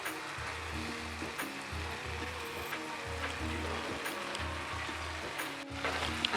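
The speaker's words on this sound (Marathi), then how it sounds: "हे मिक्स करून घेते आता हा जो मावा मी घेतलेला आहे तो मी घालत आहे" Mawa is stirred into bottle gourd halwa in a pan, giving a constant soft sizzle with a low, regular thudding pulse of stirring beneath it and no voices.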